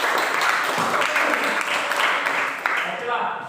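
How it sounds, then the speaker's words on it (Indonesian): A class of students claps together in a classroom, a fairly loud, even patter that carries on for a few seconds before thinning out, with some voices mixed in. "tepuk tangan"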